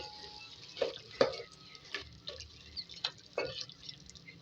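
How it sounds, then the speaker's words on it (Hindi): Okra frying with beef in a pan over a very low flame, stirred with a spoon: scattered clinks and scrapes of stirring over a faint, quiet sizzle, with a few sharper taps near the start and end. "अब इसको डाल के 2 से 3 मिनट इसको और भूनेंगे,"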